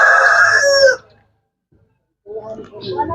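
Farm chickens and a rooster give a loud, close crow with clucking, then a pause of silence before more clucking and bird calls resume.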